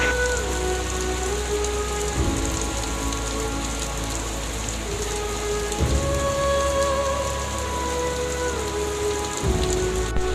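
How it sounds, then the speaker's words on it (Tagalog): Heavy rain pouring steadily during a flood in Vinzons, Camarines Norte, Philippines, a dense continuous hiss of drops on surfaces, close and loud, with a low machine-like hum underneath and no talking. "Yung ulan humihina, lumalakas."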